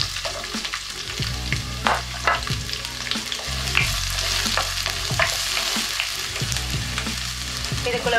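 Small onions fry in hot oil in a pan for a Tamil-style mutton nalli bone curry, a steady close sizzle with occasional stirring scrapes and clatter throughout.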